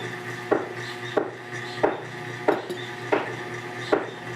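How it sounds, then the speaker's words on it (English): Vegetables, okra and carrots among them, dropped and placed into a pickling container, giving a steady series of sharp knocks and clatters about every half second, close and fairly loud with no talking. "putting the vegetables into the container, into the pickling container."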